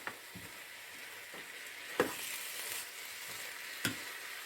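A tagine of olives and carrots in the Algerian style cooks gently under a lid, giving a soft, even sizzle and bubbling punctuated by a few sharp clicks of a lid or utensil.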